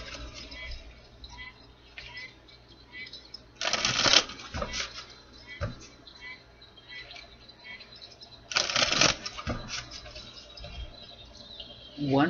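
Two quick bursts of cards being riffle-shuffled stand out amid quieter handling noises and soft rustling, fairly close by.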